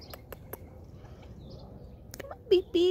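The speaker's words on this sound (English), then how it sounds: "We have house finch." House finches chirp outdoors on a cold, windy day, a few sharp high notes and short warbling calls standing out near the end over soft background noise.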